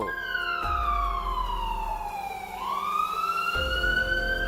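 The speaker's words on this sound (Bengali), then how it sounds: "সর্বনাশ পুলিশের গাড়ি" Police car siren in an animated cartoon, a loud close wail with smoothly rising and falling tones sweeping continuously, alone without talk.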